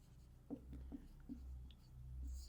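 Pen or pencil writing by hand on paper for a maths solution, faint soft scratching strokes in a few short bursts, close and very quiet with a low background hum.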